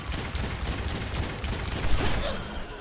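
Dense, rapid gunfire from the video game Overwatch, where a cowgirl-style hero uses a gun, shotgun and dynamite. Shots crackle continuously across the whole stretch at close range with no pause.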